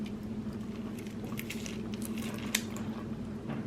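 Lime halves are squeezed by hand into a Filipino beef steak marinade, producing soft, close wet squishing and dripping over a low steady hum, with one sharper squeeze near the end.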